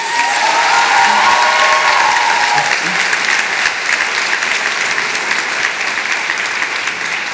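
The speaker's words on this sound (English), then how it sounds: "Graduates, please give them one more round of applause." Graduates and guests at an achievement ceremony give a sustained round of applause in a hall, thick and even clapping with a hint of cheering and faint voices underneath.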